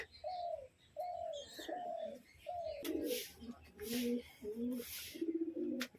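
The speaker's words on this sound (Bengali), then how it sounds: "ও ঘরের ভেতরে এ ডাকাডাকি করছে এখন, তাই বলি কি এ ডাকছে এরকম হু হু করে" Pigeons cooing inside a large loft, a series of soft, repeated low hoo-hoo calls in a steady rhythm at close range, with some faint bird chatter and background noise.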